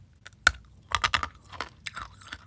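Crisp, close-up crunching as hard, brittle peanut toffee is bitten and chewed, a quick series of sharp crunches fading into softer chewing.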